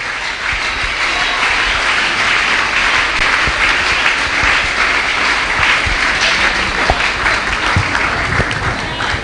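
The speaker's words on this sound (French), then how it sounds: "Je vous battre un gros applaudissement pour Papi Frère Paul" A church congregation at an Easter Bible study claps in sustained, loud applause, a thick wash of many hands that keeps up evenly for about nine seconds.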